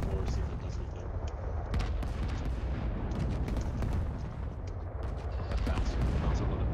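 Gunfire and frag grenade blasts crack and boom in Rising Storm 2: Vietnam as a steady string of sharp shots and heavier thumps carries on under a player's voice.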